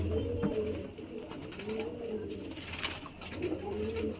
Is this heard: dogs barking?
no